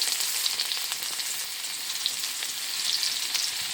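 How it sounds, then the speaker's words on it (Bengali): Chopped onion with dried red chillies and five-spice seeds frying in a little white oil, a loud, steady, dense sizzle close up with faint crackles and occasional stirring, no voices. "পেঁয়াজ কুচিটাকে একটু নেড়ে ছেড়ে নিচ্ছে"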